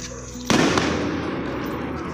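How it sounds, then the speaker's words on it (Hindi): Firecrackers go off on a Karwa Chauth evening in a residential neighbourhood: one sharp, loud bang that rings out and fades into a lingering noisy rumble, with no voices. "देखो अभी पटाखे फूटना शुरू हो गए"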